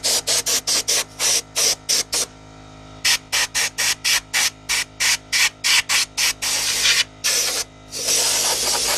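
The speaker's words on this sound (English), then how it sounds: "now I gotta hose it off" Water from a hose sprays in short, regular bursts against a Volvo DP-C1 boat transom shield, each spurt a loud close hiss separated by brief gaps.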